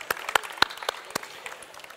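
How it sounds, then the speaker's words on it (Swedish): Sparse, scattered hand claps from a small studio audience during a Swedish cooking competition semifinal, a few separate sharp claps spread over two seconds that thin out toward the end. "Applåd Jesper."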